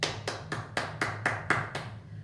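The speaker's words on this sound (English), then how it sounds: "Big round of applause." Applause at a school assembly, hands clapping in a steady burst of sharp, close claps that fade toward the end.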